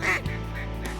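A duck quacks during a Kansas waterfowl hunt, one loud nasal quack near the start over steady outdoor rumble, then a fainter call later.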